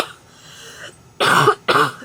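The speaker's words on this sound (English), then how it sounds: "as you can see, I am coughing and I am sick" A sick person coughs twice in quick succession, loud and close, after a quiet stretch with faint room sound.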